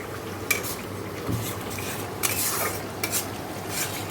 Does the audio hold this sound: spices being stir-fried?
yes